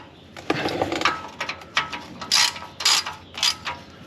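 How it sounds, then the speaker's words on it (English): A ratchet tightening hose clamps while a Derale transmission cooler is installed: repeated close, loud bursts of rapid clicking in short strokes, with light mechanical handling between them. "I like to just go around one quick circle and make sure they're all tight"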